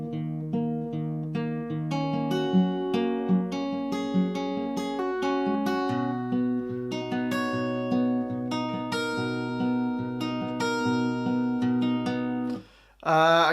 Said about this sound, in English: The bridge sounds like this.